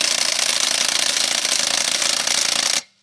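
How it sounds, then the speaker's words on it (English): An impact wrench with a deep 1/2-inch drive socket hammers off a large lug nut, a loud, rapid continuous rattling burst lasting nearly three seconds before stopping abruptly. "Let me turn the power up on my impact, and that took that right off"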